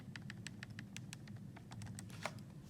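Quick, light key presses on a calculator as numbers are entered, a steady run of soft clicks close by over a low hum, with no talking.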